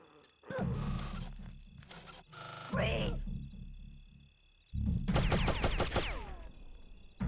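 Gunfire from an Oddworld video game comes in short bursts of rapid, sharp shots separated by pauses, the last burst the loudest and most clattering, with a voice speaking in between.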